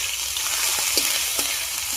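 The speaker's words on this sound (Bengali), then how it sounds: "তাই এবার আদা রসুনটা ভাজা হয়ে গেল" Grated ginger and garlic frying in hot oil in a Bengali kitchen, a steady bright sizzle with a few soft stirring scrapes, close and alone.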